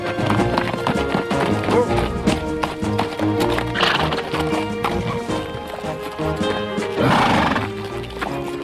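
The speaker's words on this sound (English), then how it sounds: "he and a friend borrowed some horses and rode off to the nearest main road" Horses whinny loudly and hooves clip-clop over a busy music-like backdrop, the neighing rising clearly twice, near and prominent, with some voice mixed faintly underneath.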